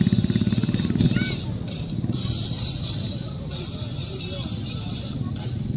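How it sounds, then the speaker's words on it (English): Stunt motorcycle engine revving and rumbling at an army day display as the rider prepares to smash through a wall of tube lights, heard under a loudspeaker announcer's voice and crowd murmur. "He will break the wall of tube lights by his motorcycle."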